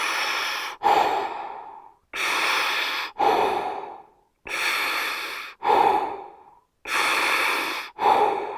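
Slow, deep breaths taken during a seated twisting stretch, each long inhale and exhale clearly audible and close, repeating in a steady rhythm of about six breaths with short pauses between them and no talking.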